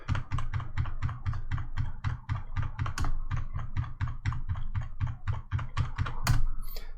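Rapid, steady keystrokes clatter on a computer keyboard, a close, crisp run of evenly spaced clicks with a few heavier key thumps near the end and no talking.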